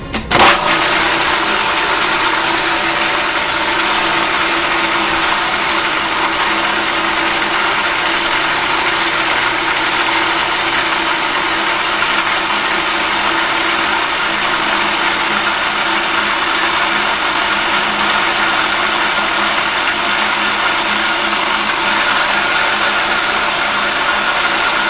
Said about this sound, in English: we always add the corn oil towards the middle of the Cuisinart. This allows the blades to incorporate it.